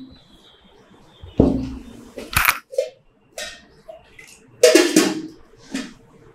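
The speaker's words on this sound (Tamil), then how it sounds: "இந்த மூக்கிரட்டை இலையை வந்து நல்லா எடுத்து சுத்தம் பண்ணி ஒரு தடவை நல்லா அலம்பிடுங்க" Punarnava (mookirattai) leaves being rinsed in water, close splashing and swishing bursts with clinks of a vessel, coming in several separate bouts with quiet gaps between them.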